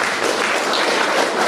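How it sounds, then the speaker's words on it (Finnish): Audience at a sports gala in Varkaus gives a short burst of dense, steady applause, many hands clapping together close by for about a second and a half. "vielä kerran aplodit"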